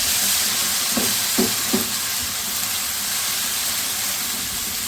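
Ginger garlic paste fries with golden onions in a pot, giving a loud, steady sizzle throughout with a few soft stirring scrapes near the start.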